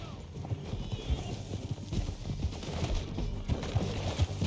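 Horse hooves clop in a quick, steady galloping rhythm in Red Dead Redemption 2, moderately loud, with a busy background of movement.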